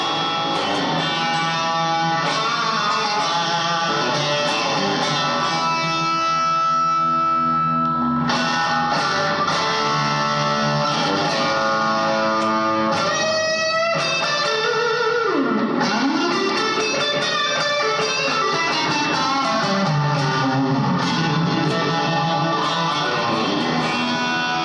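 A BX20 spring reverb on its long setting carries a dense musical passage, sustained tones smeared into a long, washy tail that blurs chords and swells throughout, loud and continuous with no voices.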